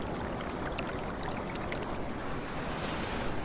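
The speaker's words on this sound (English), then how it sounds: "listening to the beautiful sounds of the waves coming in" Steady, continuous rush of ocean surf rolling in, a soft, even wash of water and wind noise with no voices.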